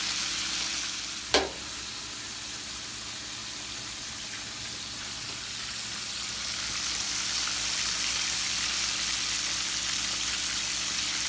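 Spicy chicken wings fry in hot oil with a steady, close, dense sizzle and crackle, a single sharp knock near the start.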